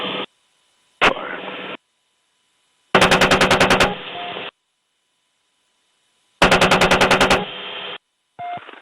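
Helicopter-mounted machine gun fires on ground troops in two loud, rapid bursts, each followed by a trailing rumble, with crackly radio chatter and static between them.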